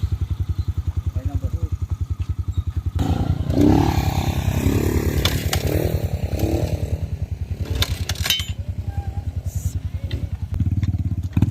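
A motorcycle on a rough, steep mountain road chugs with a steady low pulse, then revs harder and louder with clattering for several seconds before settling back to its throbbing idle rhythm.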